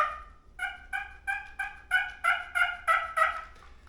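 A push-button turkey call made by Knight & Hale imitates a turkey gobble, a rapid series of about ten loud, close, rhythmic gobbling notes that rise in intensity, with no talking.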